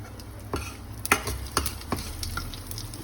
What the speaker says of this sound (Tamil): இப்போ கடுகு உளுத்தம் பருப்பு போடுறோம்.